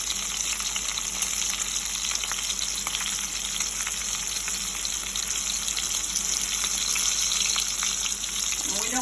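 Pork cutlets for pork Marsala frying in a pan, a loud, steady, crackling sizzle that holds evenly throughout with no talking.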